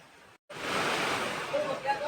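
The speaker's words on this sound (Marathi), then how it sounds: "आणि पाऊस खूप आहे" Heavy rain from inside a moving car makes a dense, steady rushing roar that starts abruptly after a brief silence and stays loud and close.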